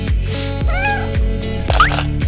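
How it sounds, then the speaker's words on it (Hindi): A cat meows several times in short, separate calls, close and clear, with a few brief knocks between them. "क्या प्यारी बिल्ली है ये।"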